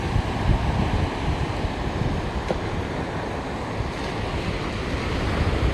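A large ship's wake surges through open water as broad, steady wave rush with heavy wind noise on the microphone, continuous and loud for the whole stretch, with no voices.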